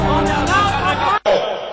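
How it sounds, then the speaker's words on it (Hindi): A crowd welcomes Chirag Paswan at an election rally in Khizarsarai, Gaya, a dense roar of voices and cheering held at steady loudness, broken by a sharp brief dropout before the clamour resumes. "आप देख रहे हैं कि किस तरीके से भीड़ उनका स्वागत कर रही है"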